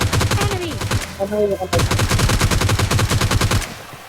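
Rapid bursts of G3 rifle gunfire in PUBG Lite, loud and close, with a brief pause near the middle before the shooting resumes in steady repeated cracks.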